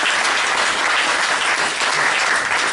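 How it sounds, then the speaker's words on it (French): Audience applause at a French political candidate's campaign gathering, a dense steady wash of many hands clapping at once, loud and continuous from start to finish with no voices rising above it. "Oui, ils méritent beaucoup d'applaudissements."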